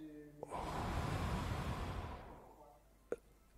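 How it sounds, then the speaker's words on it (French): A single long, deep breath taken during a guided meditation, a soft airy rush lasting about two seconds, close and quiet, followed by a brief faint click. "Alors une respiration."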